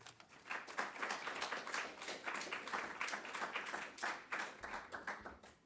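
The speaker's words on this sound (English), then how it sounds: "We'll see if you're still applauding when I'm done rambling." A small class audience applauds, a steady patter of many hands clapping at moderate distance and fairly quiet for the whole stretch.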